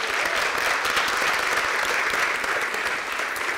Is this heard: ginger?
no